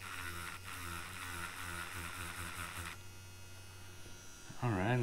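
A Dragonhawk Extreme v2 direct drive tattoo machine runs with a quiet, steady electric buzz and hum, near and continuous, its tone shifting partway through before a brief louder rattle at the end; no one speaks.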